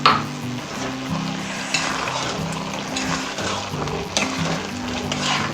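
Chicken karahi frying in oil in a pan over low heat, with a steady sizzle and repeated scraping and clinking of a spoon as it is stirred, continuous and close.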